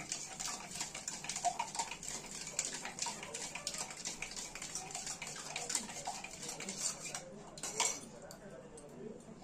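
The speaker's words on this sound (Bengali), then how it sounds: "দিয়ে চিনি দিয়ে ভালো করে আমরা মিশিয়ে নেব" A spoon stirs boiled, cooled milk and sugar together in a bowl for a mango lassi, giving busy close clinks and liquid swishing that run continuously with irregular sharp taps.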